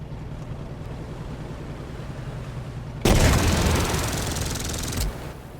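Machine-gun fire in the WW2 strategy game Headquarters: WW2 erupts abruptly after a low engine-like rumble, a loud dense burst lasting about two seconds before cutting off.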